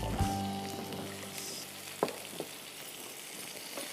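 Chopped tomatoes hit a pan of frying onion, mustard seeds and asafoetida, giving a loud steady sizzle and crackle throughout, with occasional stirring scrapes and small pops, no voices.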